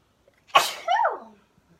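A single close, sharp sneeze with a brief voiced tail, heard alone in a quiet kitchen while chunks of food are being sliced for a one-pan Mexican quinoa.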